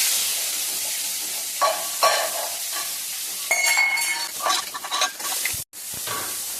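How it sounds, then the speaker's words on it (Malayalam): Crushed garlic, shallots and green chillies fry in hot coconut oil with a close, steady sizzle that swells in bursts as they are stirred, with a brief dropout near the end and no talk. "അതിലേക്ക് നമ്മൾ ചതച്ച് വെച്ച വെളുത്തുള്ളി ചെറിയുള്ളി പച്ചമുളക് ഇട്ട് കൊടുക്കുകയാണ്"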